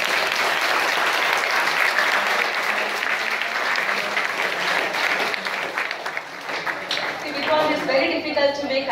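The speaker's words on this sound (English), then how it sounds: "may I have a big round of applause to our" Workshop audience applauding a presenter at an interactive IPR session, a steady round of clapping that thins near the end as a voice starts speaking over it.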